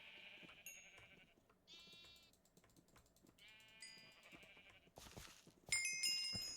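Sheep bleating in the video game Minecraft, several drawn-out nasal bleats in turn over quiet game sounds, followed by brief clicks and a brighter chime-like burst at the end.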